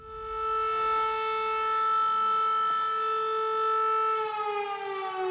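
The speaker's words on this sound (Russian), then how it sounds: "Звучит сирена." A loud civil defense siren at the start of a sports competition wails on a steady sustained tone, holding for several seconds before its pitch begins to sag toward the end.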